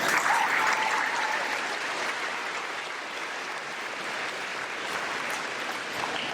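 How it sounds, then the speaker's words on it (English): Sustained applause from a large crowd at a graduation ceremony, dense and even, continuing at a steady level from start to finish. "give a round of applause for that"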